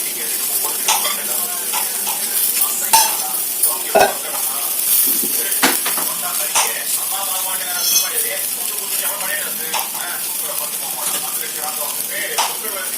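Semolina sizzles in ghee in a pan while it is stirred, with a close steady frying hiss broken by repeated scrapes and metallic taps of the spoon, no talking.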